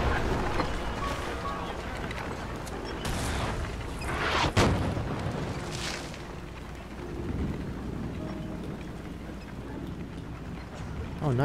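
Cannons firing in a Napoleon: Total War battle, a steady rumbling battlefield bed broken by a couple of sharp booming blasts around the middle, with someone speaking over it.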